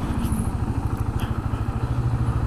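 A KTM 690 Duke motorcycle with a stock exhaust runs steadily close by, giving a low, even single-cylinder thump with a rhythmic pulse that holds for the whole stretch.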